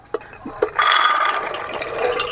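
Filtered water pours steadily into a pot of soaked kabuli chickpeas for cooking chole, a continuous close splashing fill after a few light clinks.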